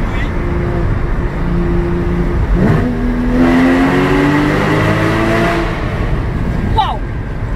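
A loud, close Porsche engine revs hard, downshifting, its pitch climbing through gears in roaring bursts that echo in a tunnel.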